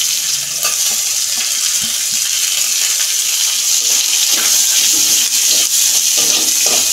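Chopped onion sizzles in a hot pan for a pumpkin bharta, a loud, continuous hiss of frying with faint crackles throughout and no talking.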